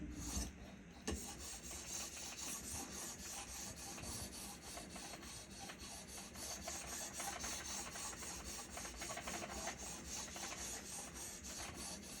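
A Vanadis 8 steel knife is sharpened dry on a stone, a steady rasping rub of blade strokes repeating evenly and close up with no talking.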